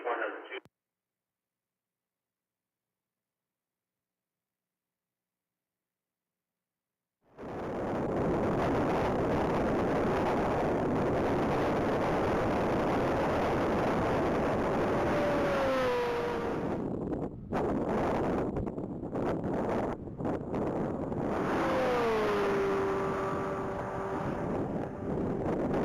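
A black 2024 Corvette Z06 makes a top-speed pass at a standing-mile event, its engine roar rising loud and sustained, mixed with heavy wind buffeting and rising whining tones as it speeds past. A short burst of other sound precedes a long silence.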